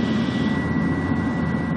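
Steady, loud cabin drone of a BFAR maritime patrol plane's engine over Panatag Shoal, a constant low roar with a thin tonal whine running through it.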